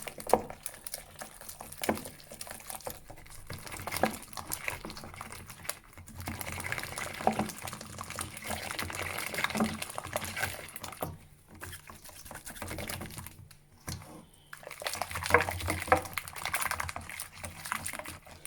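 Pancake batter is whisked in a bowl with quiet, rapid, irregular tapping and sloshing strokes that come and go over several seconds, fairly faint and close, with no talk.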